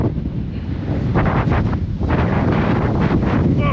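Strong wind on a mountain in Wales buffets the microphone in loud, rumbling gusts, with a rushing, surf-like roar underneath.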